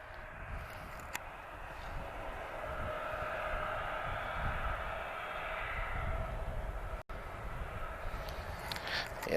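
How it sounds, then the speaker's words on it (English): Ryanair Boeing 737 taxiing at Lisbon Airport, a steady distant jet engine whine and rumble that holds for several seconds at moderate loudness amid airport background noise. "I can hear more than one aircraft taxiing now"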